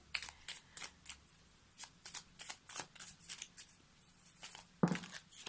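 A deck of cards is shuffled for a card reading, with quick close riffling and flicking bursts in an uneven rhythm, fairly quiet and with no talk.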